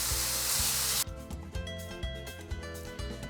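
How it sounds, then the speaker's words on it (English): Onion and beef for a bolognese sauce cook gently in a pan. A bright burst of sizzle cuts off abruptly, giving way to a quieter crackle with rhythmic scraping and stirring strokes. "we've got our onion and our beef gently cooking in the pan"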